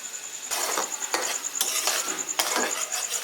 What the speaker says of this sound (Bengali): গুঁড়ো মশলাগুলো দেওয়ার পরে পাঁচ মিনিটের জন্য ভালো করে কষিয়ে নেব